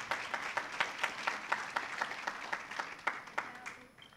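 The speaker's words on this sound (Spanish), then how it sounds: "Denle ese fuerte aplauso al Señor." A church congregation applauding at a Sunday night service, a dense run of many hands clapping with sharp irregular peaks, loud and sustained for the whole stretch.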